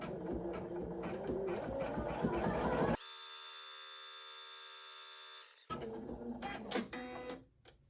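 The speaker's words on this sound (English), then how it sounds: "This next stitch will be the tack down stitch." A Poolin EOC06 embroidery machine sews a tack down stitch with rapid, busy mechanical chattering. A steady high whine replaces the chatter midway, then the clattering stitching returns and fades.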